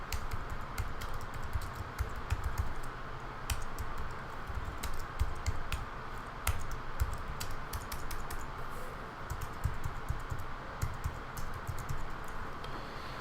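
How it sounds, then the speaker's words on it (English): Typing on a computer keyboard, rapid irregular key clicks in a continuous run, close and clear, with no voices. "And then I can click in here and start typing."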